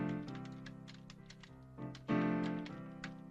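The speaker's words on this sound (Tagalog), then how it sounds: "marunong ka pala mag-type eh" Typing on a computer keyboard in a comedy film scene, quick irregular key taps in short bursts with a louder cluster toward the end, fairly quiet and close.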